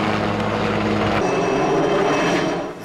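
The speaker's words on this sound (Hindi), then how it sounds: "हेलीकॉप्टर मंडरा रहा है" A helicopter hovers overhead during an army search operation in Kashmir's Shopian district, a loud steady rotor roar that shifts in tone partway through, with no voices.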